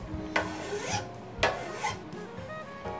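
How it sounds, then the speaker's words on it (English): Hand filing on a split cane bamboo strip for a fly rod, a close, dry rasping rub with two stronger strokes early and late and steadier scraping between, with no voice. "You want to be careful not to go too deep with the filing"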